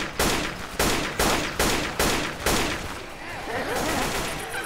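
Gunfire in Left 4 Dead 2: six loud, evenly spaced broadband shots in quick succession, followed by a softer rumbling wash of game noise.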